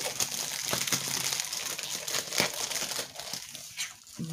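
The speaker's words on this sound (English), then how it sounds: "Let's just cut the plastic." Plastic wrapping being cut and pulled off a diamond painting storage book, producing close, steady crinkling and crackling with a few sharper snaps, moderately quiet.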